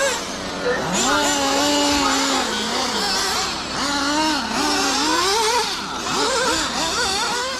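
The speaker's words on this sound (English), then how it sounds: "Just listen to that engine scream." A Reds Racing R7 Evoke nitro RC car engine, running rich on its first tank after an oil break-in service, screams through repeated high-pitched revs that rise and fall in quick bursts, loud and close.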